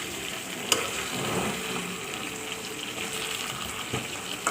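Pigeon meat cooking in mustard oil with a ground spice paste, giving a steady close sizzle and faint bubbling with a couple of light utensil knocks, no voices.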